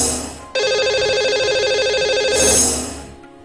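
A telephone rings for a call to a radio show's lucky caller: one steady electronic warbling ring burst, clear and loud, fading at the end with no talk.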